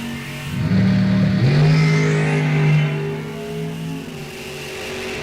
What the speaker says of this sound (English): We got us a drag race here.